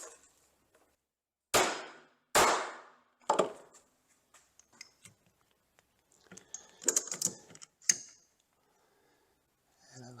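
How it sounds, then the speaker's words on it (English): A hammer strikes a crimp-style wire connector during a DC-DC electrical upgrade on a Thor Compass RV, giving three sharp, loud knocks spaced about a second apart, followed by softer scattered handling clicks and taps. "And then use the hammer."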